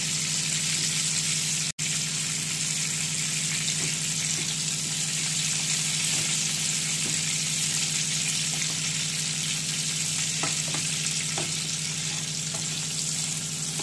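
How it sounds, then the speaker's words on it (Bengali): Prawns frying in oil make a constant, even sizzle for the whole stretch, close and fairly loud, over a steady low hum, with a brief dropout early on. "চিংড়ি মাছটা ভাজা হোক"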